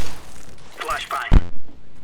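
A flashbang grenade goes off in CS:GO during a Dreamhack Winter 2014 quarterfinal match, a single sharp, loud bang cutting through game voice lines and quieter surrounding sounds.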